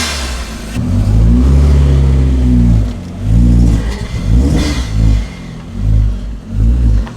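An old car's engine revs hard in repeated bursts, loud and close, rising and falling in several distinct pulses with rough idle between them.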